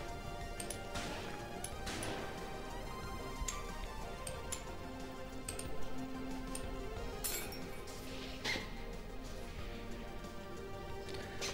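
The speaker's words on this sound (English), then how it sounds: "Destroying a plasma window takes fucking forever." Repeated glassy clinks and crashing impacts as a plasma window is battered in Space Station 13, steady strikes over a constant game hum with a few louder smashes, no talk.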